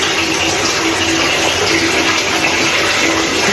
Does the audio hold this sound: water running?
yes